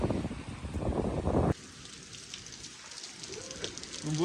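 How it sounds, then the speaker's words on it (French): Rain falls during a bicycle trip through Almería province, Spain, with a loud, dense hiss for the first second and a half before dropping to a softer, steady patter. "Il pleut."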